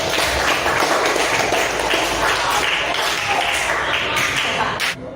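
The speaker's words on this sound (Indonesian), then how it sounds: "berikan tepuk tangan untuk kelompok Thailand" A classroom of students claps for a group, sustained and fairly loud, many hands patting together in a continuous wash that fades only at the very end.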